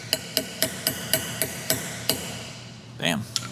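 A seal driver taps a new input shaft seal into the transmission of a Terminator Cobra, ten or so sharp, evenly spaced metallic hammer knocks ringing close, followed by a brief scraping rustle.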